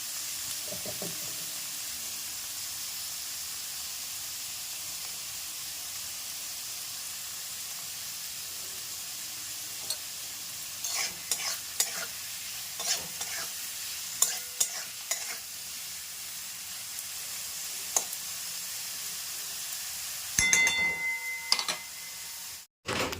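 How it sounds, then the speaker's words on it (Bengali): Vegetables frying in a pan give a steady, soft sizzle, joined midway by scattered scraping and clattering of a spatula, with a few louder knocks near the end. "এবার এই সবজিগুলো ভেজে নেব"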